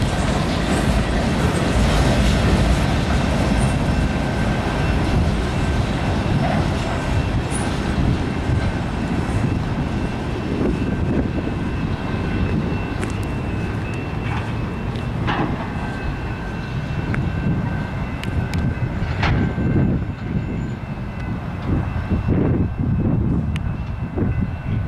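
CN 5436 and CN 5441 diesel locomotives lead an eastbound local freight train through Battle Creek, Michigan, a steady, loud rumble of engines and rolling cars filling the whole stretch with no talk.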